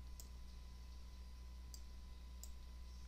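Sharp, faint mouse clicks made while drawing with the pen tool in Adobe Illustrator, three isolated clicks spread across a quiet background hum.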